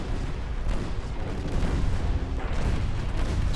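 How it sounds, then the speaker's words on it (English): Torpedoes and gunfire striking ships in a naval battle game set among dreadnoughts, a dense, continuous roar of booms and heavy blasts rumbling loudly throughout with no talk. "Torpedoes hitting all sorts."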